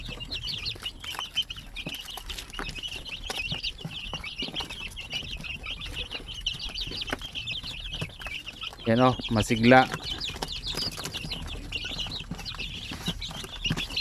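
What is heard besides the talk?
shamo aseel chicks chirping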